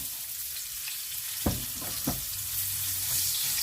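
Onion sizzling as it drops into hot pork fat (salo) over a high open fire, a steady close frying hiss with a couple of sharp louder bursts as pieces hit the pan, no talking.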